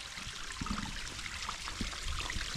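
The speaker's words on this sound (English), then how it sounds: "So we come across this running water here" Running water of a small stream along a wooded nature trail, a steady trickling and burbling wash with light splashes, close by and continuous, no voices.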